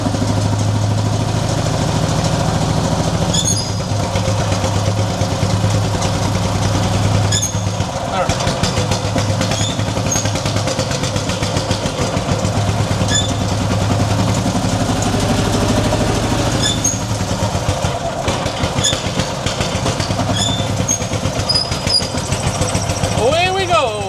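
A Cushman engine runs steadily in gear, a continuous low mechanical drone close by with small clanks and squeaks over it throughout.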